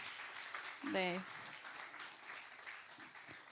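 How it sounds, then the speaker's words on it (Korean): Congregation in a church giving a round of applause, a dense steady patter of clapping heard at a distance for several seconds, with a brief spoken word over it. "앞으로 나오실 때 큰 박수 여러분 부탁드립니다."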